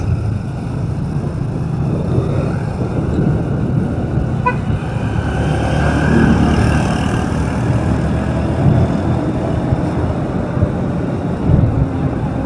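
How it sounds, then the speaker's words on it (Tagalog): Big trucks rumble past on an unfinished road under construction, a continuous loud engine drone with a swelling pass midway and a faint horn toot, heard close from the roadside. "Malalaking truck pa naman, oh."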